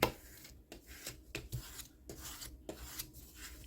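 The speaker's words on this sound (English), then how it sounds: "Let's go ahead and burnish that so it can sit tight" Paper is burnished onto cardboard for a mini journal with quick repeated rubbing strokes, a faint, close, steady scraping rhythm.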